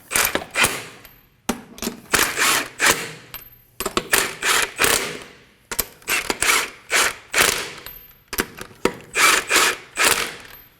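Lug nuts on a Kia Sorento wheel are snugged down with a ratchet, close rapid clicking in repeated bursts of several strokes with short gaps between them.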